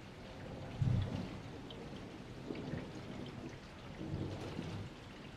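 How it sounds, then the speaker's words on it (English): Steady rain falls throughout, with low rumbles of thunder rolling at moderate distance, one heavier roll near the start and softer ones later, under a calm storm ambience. "The rain continues."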